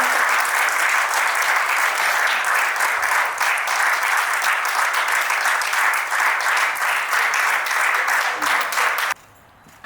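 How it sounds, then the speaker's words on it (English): A ceremony audience claps steadily in a dense, sustained burst of applause for nearly ten seconds before it cuts off abruptly near the end. "Let's have a big round of applause again."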